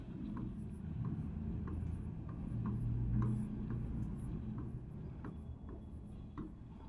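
Marker or chalk writing on a classroom board during a Hindi geography lesson, a steady scratchy rubbing with short strokes running throughout, fairly close, with no one speaking.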